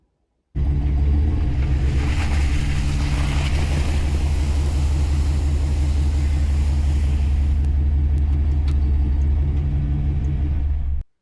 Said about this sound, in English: got the truck backed up here now